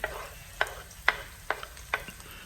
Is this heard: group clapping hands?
no